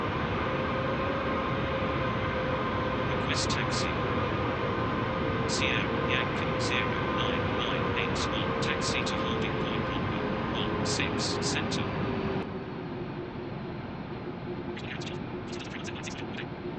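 An Emirates A380 taxis to the runway holding point in a flight simulator game, with a steady, loud cockpit engine hum throughout and short clicking beeps scattered over it.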